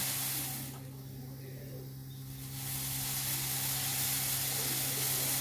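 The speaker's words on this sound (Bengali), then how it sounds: "এক মিনিট ধরে আমি কয়েক সেকেন্ড ধরে ফোটাচ্ছি।" Masala tea bubbles and hisses steadily in a pan on the stove, a soft continuous sizzle that thins briefly before swelling again.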